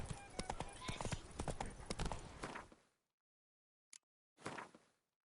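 Horse Roach clip-clopping in The Witcher 3 video game, a quick run of sharp hoofbeats for about three seconds, then silence, a single click and a short final burst of hooves.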